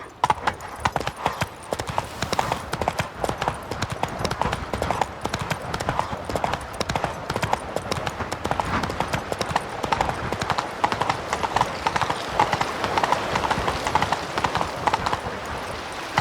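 In The Witcher 3: Wild Hunt, a horse gallops in a steady, rapid clip-clop of hooves that continues without a break, close and fairly loud throughout.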